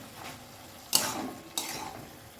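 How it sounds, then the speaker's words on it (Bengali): Fresh bottle gourd greens fry in a pan and are stirred twice, each stir a sharp scraping rush over a soft, steady sizzle; fairly quiet and close, no talking. "ভালো করে একটু নাড়াচাড়া করে নেব"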